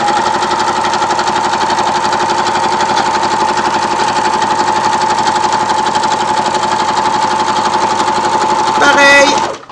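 A sewing machine runs steadily and loudly for nearly ten seconds, stitching a reusable sandwich pouch with a fast, even mechanical whir before stopping abruptly at the end.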